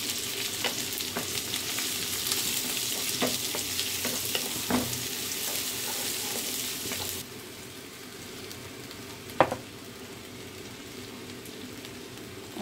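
Chopped garlic, ginger and onion fry in a pan with a bright, steady sizzle. Scattered clicks of stirring come through, then the sizzle drops softer partway through, with one sharp knock near the end.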